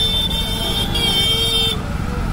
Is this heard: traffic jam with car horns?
yes